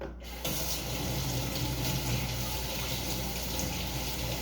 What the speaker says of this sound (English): I'm going to rinse my hands out